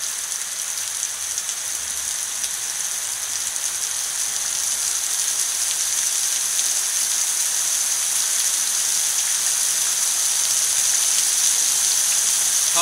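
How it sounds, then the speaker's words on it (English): Heavy rain pours down in a dense, steady hiss that stays loud throughout, with no speech. "torrential downpour"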